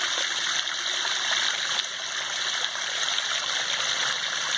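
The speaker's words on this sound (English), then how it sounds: "water coming out of the wetland filter" Water streaming steadily out of a backyard pond's wetland filter on a rainy day, a continuous close trickling and gushing flow at even volume with no talk.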